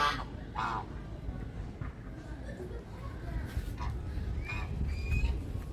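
Ducks quack and honk intermittently near an old thick-trunked tree outdoors, a few scattered calls at moderate distance over steady wind and background noise.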